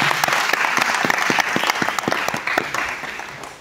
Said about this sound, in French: Est-ce qu'on va applaudir pour nous-mêmes